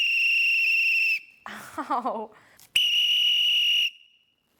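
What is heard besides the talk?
whistle being blown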